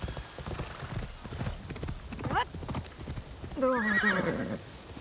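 A horse in Assassin's Creed Shadows gallops with a rapid clip-clop of hooves, then lets out a loud, drawn-out neigh near the end, over game background sound.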